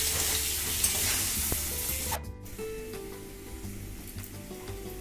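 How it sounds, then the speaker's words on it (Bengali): Potatoes with turmeric frying in a pan, a steady sizzle loudest at first, then dropping abruptly and continuing more softly with faint stirring scrapes. "আলুটাকে আমি ভালো করে ভেজে নিয়েছি"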